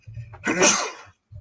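A single sharp human sneeze bursts out close by indoors, quick and forceful, with brief quiet before and after.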